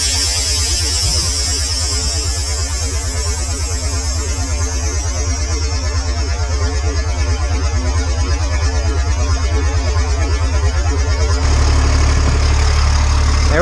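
An air compressor on an LMTV military truck hums and buzzes loudly and steadily, while its purge valve vents leftover oil; the drone holds even throughout and gets a bit stronger near the end.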